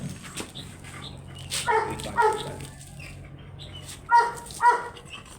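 A Chow Chow dog at a stud session in Sapang Manaoag, Pangasinan, gives several short whimpers and high yips in separate bursts, close and fairly loud, with a low background hum between them.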